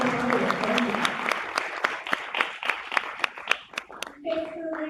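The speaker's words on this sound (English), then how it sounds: "Let's do another round of applause for everybody in this conference" Conference audience at an AI and marketing summit breaks into applause, a dense wash of clapping that thins into scattered individual claps before a voice speaks at the end.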